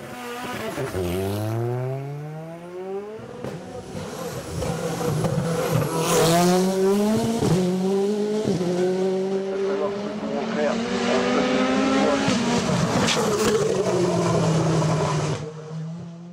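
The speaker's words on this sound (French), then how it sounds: "Anthony Dubois a fait évoluer de façon significative son Alpine A110 Evo durant l'hiver." Alpine A110 Evo race car at a hill climb course at Bagnols-Sabran, its engine loud and near, revving hard through repeated gear changes and climbing pitch sweeps over about sixteen seconds, with possible faint voices underneath.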